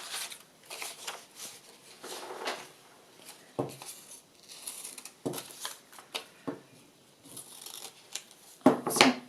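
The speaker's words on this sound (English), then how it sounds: "You can then cut out a section you want to use." Scissors snipping a section out of a skeletonised leaf, a series of short crisp close cuts with paper rustling between them.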